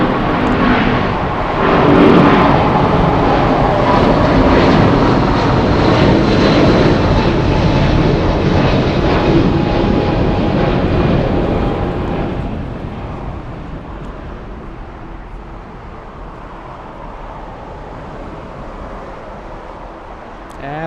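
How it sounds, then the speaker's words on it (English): Nippon Cargo Boeing 747-8 freighter at LAX, a loud roaring jet engine rumble that holds steady, then fades gradually as the aircraft moves away, with no talk. "Nippon Cargo 108, that 747-8 is Juliet Alpha 11 Kilo"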